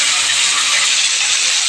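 Rice cooking in a pot on a kitchen stove, giving off a loud, close, steady hiss of steam with no talking.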